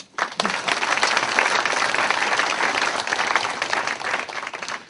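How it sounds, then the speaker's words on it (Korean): Staff break into sustained, dense applause at Pandora TV's 2008 New Year kickoff ceremony, a full room of hands clapping continuously for about five seconds with no voices over it. "전 직원이 한번 자축하는 의미에서 한번 박수 한번"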